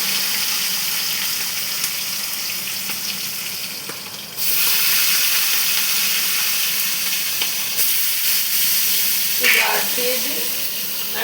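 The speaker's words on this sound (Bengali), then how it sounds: "বাকি মাছগুলো ভেজে নিচ্ছি।" Large fish fry in hot oil with a steady, loud, close sizzle and hiss that swells partway through, alongside a few faint clinks.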